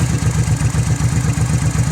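Honda Hawk GT motorcycle running close by, its engine held near idle with a steady, throbbing low exhaust pulse and a faint mechanical clatter, with no rise in revs.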